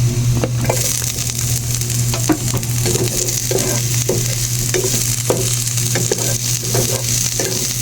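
Onions sautéing with garlic in a pan for ginisang gulay, with a loud continuous sizzle and frequent scraping stirs of a spatula close up, and no voices heard.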